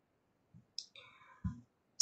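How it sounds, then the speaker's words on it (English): A computer mouse clicks on a submit button, giving a few soft, isolated clicks in an otherwise quiet room. "and then I'm going to click submit"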